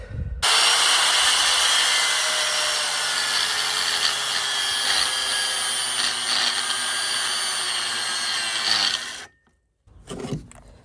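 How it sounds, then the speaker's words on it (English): An angle grinder cuts away metal hanging beneath a car's underside, a loud steady high whine that runs for about nine seconds before cutting off abruptly, followed by a brief clatter. "I need to cut part of that off too so it's just not hanging down. Bit of grindy grind."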